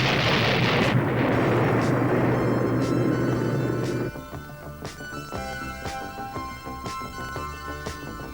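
A Hellfire missile warhead explosion: a loud, sustained roaring blast with rumbling debris for about four seconds, then fading into quieter scattered bangs and a tonal background.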